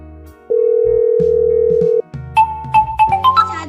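A telephone tone plays during a call: one long steady electronic beep, loud and close, followed by a short run of rising melodic ringtone notes.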